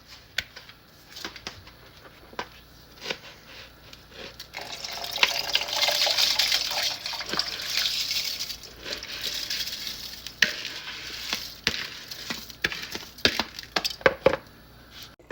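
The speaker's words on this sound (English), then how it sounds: "Now that the water's boiled, I'm going to add the rice." Washed rice poured into boiling salted water in a pan, giving a steady bubbling, sizzling wash with scattered clinks and splashes, moderately close and without talk.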